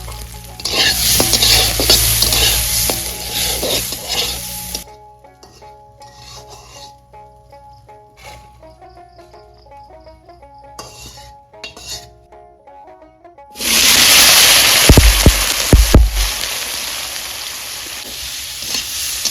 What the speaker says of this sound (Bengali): চালটা তেলে ভাজে নিব। অল্প তেল দিয়ে দিব।